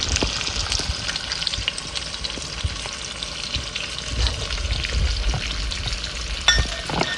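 Eggs fry in a pan beside saucisson, a loud close continuous sizzle and crackle with occasional stirring scrapes and a sharp knock near the end, no voices.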